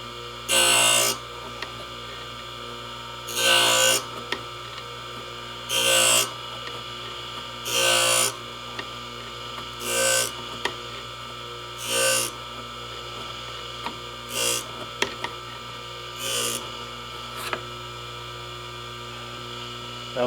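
A Darex drill grinder sharpens a drill bit in repeated bursts of grinding, roughly ten short passes about two seconds apart, over a steady electrical hum, with no talking.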